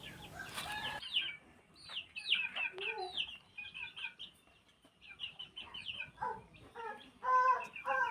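Black fighter and native desi chickens with their chicks cluck and cheep up close in a busy overlapping chatter, opening with a short burst of broad noise and then continuing steadily without any talking.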